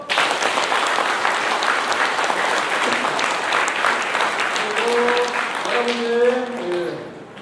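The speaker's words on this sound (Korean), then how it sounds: "박수!" A congregation at Easter Mass breaks into warm, sustained applause for the parish volunteers, clapping steadily before a voice begins speaking over the tail end.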